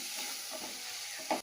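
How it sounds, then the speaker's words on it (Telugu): Turmeric being stirred into frying tomato and onion in a pan, soft sizzling with a few light spoon scrapes and a brief louder clatter at the end, no voices. "1 టీ స్పూన్ పసుపు వేస్తున్నాను. మంచిగా కలుపుకోవాలి."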